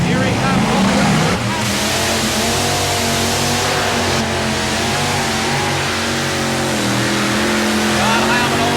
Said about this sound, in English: He ran his Ford Thunderbird Turbo Coupe with a 2-wheel drive